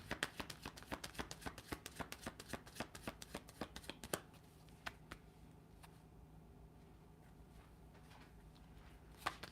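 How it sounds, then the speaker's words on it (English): A deck of tarot cards being shuffled by hand, a rapid run of crisp riffling clicks for about four seconds, then a quieter stretch with a few isolated card taps, close and alone. "Shuffle it up."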